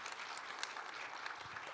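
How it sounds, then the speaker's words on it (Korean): Audience applause at a Korean peace forum economic session in PyeongChang, a steady wash of clapping from a seated crowd that runs evenly for the whole short stretch without talk. "큰 박수 부탁드립니다"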